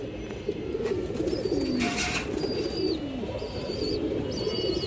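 Indian high flyer Kaldam pigeons cooing in soft, repeated low coos over a steady background hum, with a few faint higher bird chirps.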